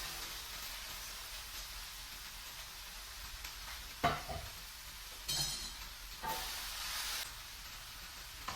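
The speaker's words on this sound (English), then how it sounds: "Then I'm going to add in the veggies and saute those." Vegetables sizzle and hiss in a hot pan, a steady frying crackle broken by louder bursts and clinks as the veggies are stirred and tossed with a utensil.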